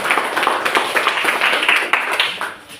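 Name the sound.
audience clapping after a class presentation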